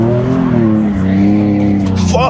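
Tires squeal loudly on a turbocharged Nissan 350Z as it drifts, with the engine droning close and strong underneath for a couple of seconds.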